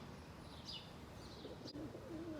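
Pigeons coo softly and a few short chirps sound as birds come down to land, faint and somewhat distant against a quiet outdoor background.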